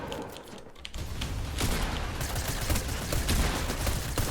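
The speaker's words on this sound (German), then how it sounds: "Da ist jemand am Schiessen." Gunfire in a Fortnite match, a rapid cluster of sharp shots and bursts at moderate distance, repeating in dense volleys over a few seconds with no talk.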